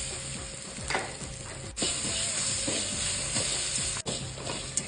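Urad dal, pepper, red chillies, garlic and grated coconut dry roasting in a pan, a steady dry rustling sizzle punctuated by scraping stirs and a couple of sharp knocks of the spoon.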